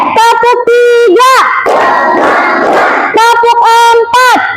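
A classroom of children loudly chants in unison, then breaks into a dense burst of rhythmic group clapping before the chant resumes, all close and energetic.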